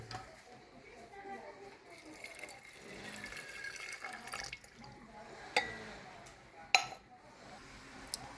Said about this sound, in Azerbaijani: 100 ml qaynar içmə suyu əlavə edirik.